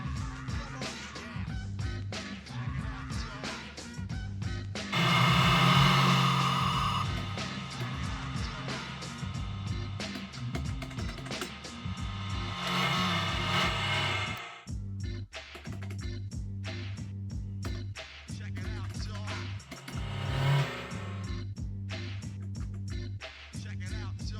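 Engine roar and music from the Outrun arcade racing game, played on a MAME arcade cabinet, sounding steady and continuous with no talk.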